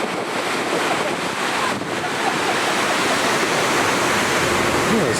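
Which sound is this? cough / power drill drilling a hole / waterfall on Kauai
waterfall on Kauai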